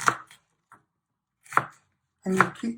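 A knife dicing an onion on a cutting board for a prawn and vegetable curry: a few sharp, close chops spaced irregularly, the last two coming in a quick pair after a short pause.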